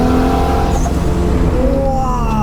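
A right-hand-drive Nissan Skyline R33 GTS25T turbo accelerates hard, its engine note climbing steadily with a brief high wastegate chirp near the start, loud and close from inside the car.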